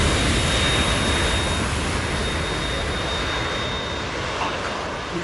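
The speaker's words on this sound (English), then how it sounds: "We're in trouble. It's the Harrier." Harrier jet aircraft in the Metal Gear Solid 2 video game, a loud, dense roaring engine rumble that holds steady throughout with a faint high whine on top.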